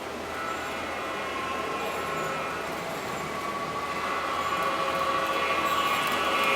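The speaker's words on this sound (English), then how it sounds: "Comes another train." A model train runs on a layout, giving a continuous rolling rumble with a light metallic hum that grows gradually louder as it approaches.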